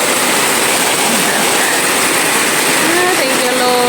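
Heavy rain pours down in a loud, dense, unbroken roar, with a faint tonal hum creeping in near the end.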